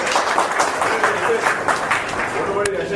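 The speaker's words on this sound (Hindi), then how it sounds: "तो जोरदार तालियों से इनका भी स्वागत करें।" A crowd at a public ward meeting claps to welcome a candidate, a steady moderate burst of applause with voices mixed underneath.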